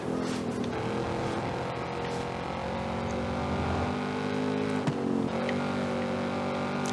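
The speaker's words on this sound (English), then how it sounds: "you can just hear the sound of your engine like bouncing off the wall and coming back at you" Car engine in Forza Horizon 5 droning through hilly New Mexico terrain, its note echoing back off a rocky wall; a sustained, fairly loud tone that shifts pitch midway as the car changes gear.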